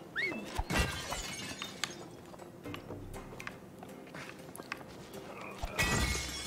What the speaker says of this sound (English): I just like smashing all the jars